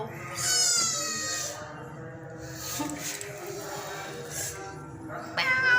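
Several high, thin kitten meows come and go close up, with people talking quietly in between.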